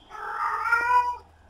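A cat in the video game 7 Days to Die gives a single drawn-out meow, clear and close, rising and then fading over about a second.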